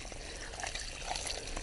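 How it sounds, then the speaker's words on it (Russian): Water poured into a planting hole while dividing and replanting hostas and irises in autumn, a soft continuous splashing and trickling, fairly quiet and steady throughout. "Посадочная яма поливается водой,"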